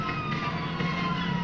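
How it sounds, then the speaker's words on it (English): Police car sirens in the video game GTA Los Santos: a steady siren wail sounds continuously over a low engine rumble, moderately loud, with no talk during the short stretch. "I got police cars on me, bro."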